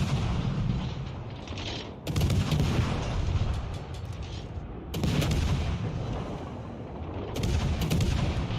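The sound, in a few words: naval gunfire from World of Warships Legends video game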